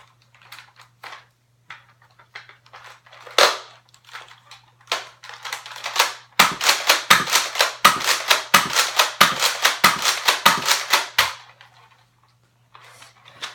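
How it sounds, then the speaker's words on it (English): A Nerf blaster fires foam darts in single-fire mode, a run of sharp, snappy pops coming close together in a steady rhythm after some scattered clicks and priming sounds, then falling quiet. "So here's the single fire and firing range or do the same."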